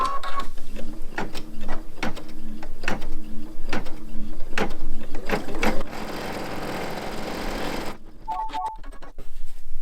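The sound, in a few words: embroidery machine stitching the placement line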